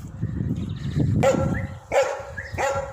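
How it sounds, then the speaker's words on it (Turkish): A dog at a villa barks three times, fairly close, after a stretch of low rustling and movement. "villada köpek var. Kapı açık olsa saracak."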